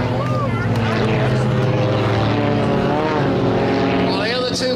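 Propeller aircraft of the Global Stars aerobatic team manoeuvre at the Scottish International Airshow, a continuous loud engine drone with shifting pitch as they roll and turn, while an announcer's amplified commentary runs over it.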